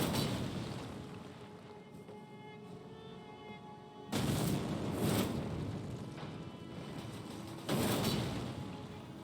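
Colossal weapon heavy attacks in the video game Elden Ring, each following a weapon art, land as two heavy crashing impacts a few seconds apart over a dense, rumbling game background.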